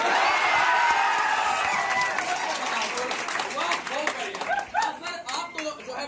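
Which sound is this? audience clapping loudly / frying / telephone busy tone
audience clapping loudly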